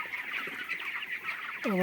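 Chickens on a poultry farm cluck and chatter as a dense flock, a busy continuous murmur of calls, ending in one louder, nearer squawk.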